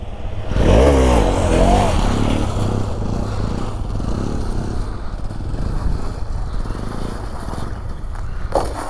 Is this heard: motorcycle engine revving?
yes